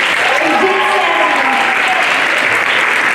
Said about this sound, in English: So a round of applause for Ms. Pascarella